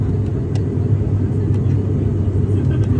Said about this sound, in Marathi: विमान आणखीन उंचीवर चाललेलं आहे.